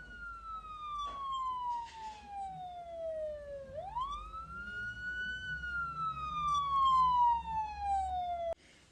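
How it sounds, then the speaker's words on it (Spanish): An ambulance siren wails with long falling and rising sweeps, fairly loud and close over faint traffic rumble, cutting off abruptly at the end. "escuchar este sonido de la ambulancia es algo que nos causa un poco de temblor"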